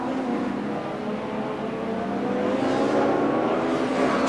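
Audi V8 Quattro touring race cars at full throttle on the Norisring street circuit, a loud, sustained multi-engine roar with rising revs and no talk.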